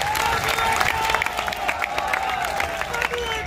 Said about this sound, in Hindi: एक बार जोरदार उनके लिए तालियां साथियों।